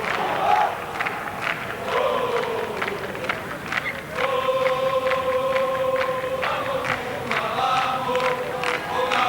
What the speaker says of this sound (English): Not a very big crowd at Lancaster Park, but it is vocal, and both sides have their share of support